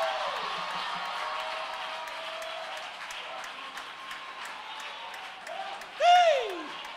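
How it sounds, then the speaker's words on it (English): A church congregation claps steadily through a service, a continuous diffuse patter that holds evenly for several seconds before a brief whoop-like cry rises near the end. "clap your hands and rejoice"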